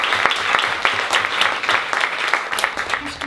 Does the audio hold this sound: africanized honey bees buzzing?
no